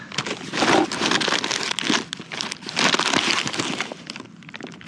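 Foil-like emergency reflector packaging crinkles and crackles as it is handled up close, two bursts of loud crumpling with a brief softer lull between.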